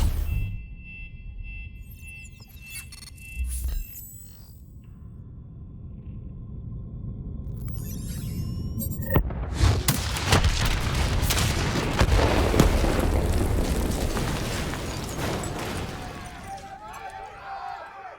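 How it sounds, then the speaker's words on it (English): A detonation in the video game Call of Duty Black Ops III sets off a heavy, rumbling explosion with a sharp onset, booming and lingering for several seconds amid game noise after brief voices. "Detonate now!"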